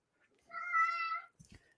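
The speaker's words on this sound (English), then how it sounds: "You might hear my cat in the background." A domestic cat gives a single clear, drawn-out meow of under a second somewhere in a quiet room, fairly faint, followed by a couple of soft thumps.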